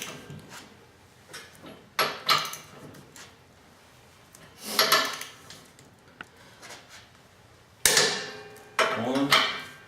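Metal tool clicks and clanks while torquing John Deere 1 Series loader mounting bolts to 223 foot-pounds, a few separate sharp knocks and ratcheting clatters spread across the stretch with quiet gaps between them.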